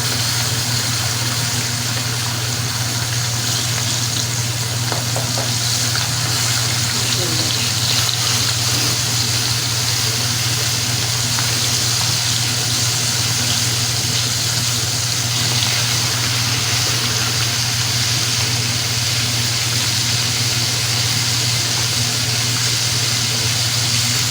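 Egyptian-style seasoned crispy fish fries in hot oil: a continuous, even sizzling hiss with fine crackle, under a steady low hum, with no talking.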